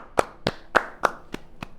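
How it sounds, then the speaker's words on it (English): Six sharp hand claps at a slow, steady pace, close by and fairly loud, with no one speaking. "can I give you a round of applause?"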